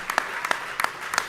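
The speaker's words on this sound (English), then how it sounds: "Alvin, immigrants from Guyana and Jamaica, give them a round of applause" Audience applause at the New York State Democratic convention comes as a brief burst of scattered claps in uneven clusters, moderately loud with crowd murmur underneath.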